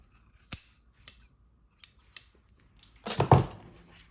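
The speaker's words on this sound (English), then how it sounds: "And we're going to trim this extra off." Scissors trimming excess fabric off a quilted box bag, a few sharp separate snips followed by a longer crunching cut through thicker layers, close and clear with no talking.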